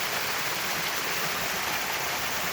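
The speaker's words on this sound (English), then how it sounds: "nice waterfall right beside the road" Waterfall beside a road at Fern Crescent, Golden Ears Park, giving a soft continuous hiss of falling water with no voices.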